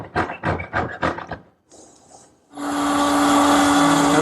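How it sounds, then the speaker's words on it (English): Router fitted with a 1/4-inch spiral bit cutting a stopped groove in the edge of a wooden breadboard end: a loud, steady high whine starts abruptly partway through and holds to the end, after a few short knocks and a faint hiss. "Now that's the first pass on the groove for that tenon. I'm using a 1/4-inch spiral cutting bit."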